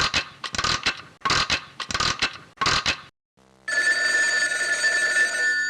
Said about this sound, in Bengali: টেলিফোন বাজছে, কাউকে তো দেখছি না